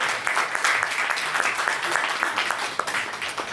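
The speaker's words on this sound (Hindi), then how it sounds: "जोरदार तालियां साथियों के लिए।" Applause from colleagues at a retirement farewell celebration at Baroda House in Delhi: steady, moderately loud clapping from a gathered group with scattered sharper claps, running throughout with no one talking.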